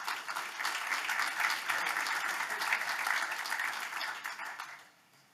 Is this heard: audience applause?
yes